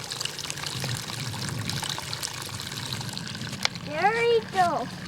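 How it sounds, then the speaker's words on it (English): Water pours and splashes from a pipe on a family farm, a steady outdoor flow under faint background noise, with a brief child's vocal squeal near the end. "let's go see the water coming out of our pipe"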